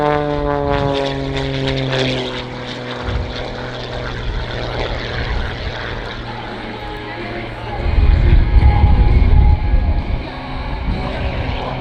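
A propeller-driven aerobatic aircraft roars through a solo airshow display, its engine note droning steadily and then swelling louder and rougher as it pulls through a manoeuvre, with a commentator talking over it.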